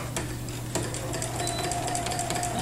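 A sewing machine stitches in the ditch on a quilt, a close, steady rapid whir of needle strokes with a constant motor hum running throughout.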